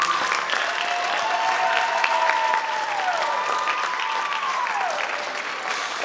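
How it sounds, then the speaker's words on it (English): Sustained audience applause for graduating orchestra seniors at a Wekiva High School concert, dense steady clapping with a couple of high whistles rising over the crowd. "Can you give them a round of applause, please?"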